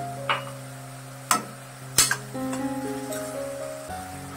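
Onions with salt fry in a pan, a quiet sizzle beneath a few distinct clinks of a spoon against the pan.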